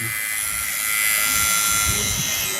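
An electric trimmer shaving off a mustache during a haircut, giving a steady close buzzing hum throughout with faint rustling contact against the skin and hair.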